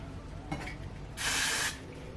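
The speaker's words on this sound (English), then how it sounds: "I'm going to be spraying it with my Got To Be spray" A Got2b hair spray can gives one loud, steady hiss of about half a second while hair is styled into a sleek bob ponytail, after a softer, brief puff just before.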